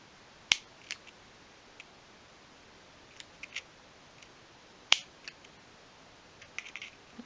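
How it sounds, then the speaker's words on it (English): Scissors make a few sparse, faint snips through excess leather on a 1/12 scale miniature suitcase, isolated crisp clicks against a quiet room. "we can just snip off the excess leather just below the line of the lid"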